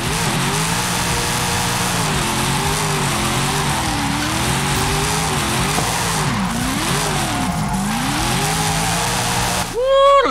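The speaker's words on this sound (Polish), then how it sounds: "dałem ten głośny, zajebiście głośny wydech" A loud exhaust from a 1000 HP 6.16 L V8 Cadillac CT5-V Blackwing in Forza Horizon 5 roars continuously, its pitch rising and falling with revs as the car drifts, with tires squealing and a sharp burst at the end.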